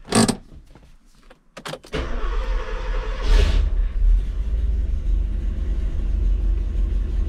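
A 1985 Porsche 928 S Euro engine cranking and starting: a couple of brief clicks and a short whir, then the engine catches with a loud surge and settles into a steady, close, rumbling idle.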